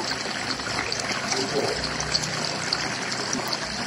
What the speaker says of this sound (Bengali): এবার আমি ঢেলে দিচ্ছি। আমি ঢেলে দিলাম